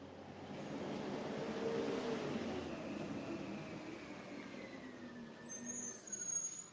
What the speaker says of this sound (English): that truck's going by again